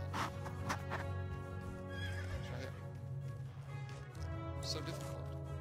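A horse in the video game Lego Worlds whinnies and neighs among clip-clop hoof sounds and some squishy noises, while a person talks over it.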